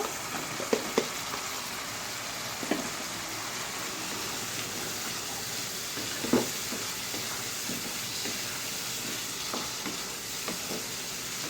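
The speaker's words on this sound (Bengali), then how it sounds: "এর উপর আমি গরম মশলা দিয়ে দিচ্ছি আলুগুলো দিয়ে দিব" Potatoes and garam masala fry in a pan of spiced paneer curry with yogurt, a continuous sizzling hiss broken by scattered scraping stirs and a few louder clinks of a spoon against the pan.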